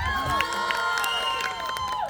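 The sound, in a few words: applause at wedding sangeet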